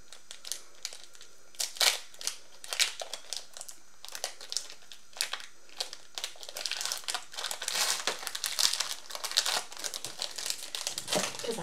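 A Disney trading card pack is torn open and its cards handled, giving close, irregular crinkling and crackling bursts of foil wrapper that grow denser toward the end.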